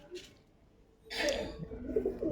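A female pigeon coos close by in short, soft bursts, with a quiet lull before the calls grow fuller and louder.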